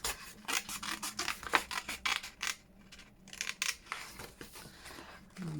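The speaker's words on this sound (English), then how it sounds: "Let's get the scissors in." Scissors snipping through paper scraps for a journal insert, close up: a run of short, crisp cuts and rubbing paper rustles, fairly quiet, with no talking.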